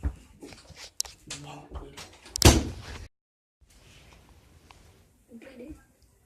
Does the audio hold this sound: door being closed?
yes